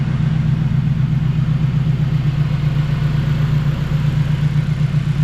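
A turbocharged Honda K20 fitted in an EK Civic idles steadily, giving a close, even low drone with a faint whir above it and no breaks.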